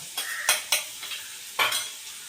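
Tomato and green chilli being sautéed in a pan with ginger-garlic paste, heard as a few sharp stirring scrapes and sizzling bursts at close range over a quiet background hiss, with no voices.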